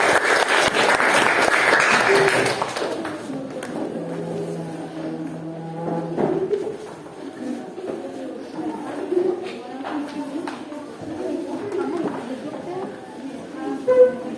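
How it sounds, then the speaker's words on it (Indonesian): Applause for a student group that has just finished a classroom presentation, a short loud burst of clapping in the first couple of seconds that dies away into classroom murmur and a teacher's voice. "tepuk tangan untuk kelompok 3"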